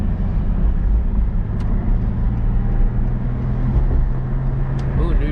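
A Nissan 350Z engine runs with a steady, loud low rumble and constant hum, with people talking over it throughout.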